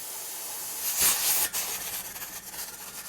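Steam hisses steadily from a pressure canner as the weight is set on the vent, swelling into a loud rushing burst with sputtering, uneven jiggling hiss that continues close by without talk.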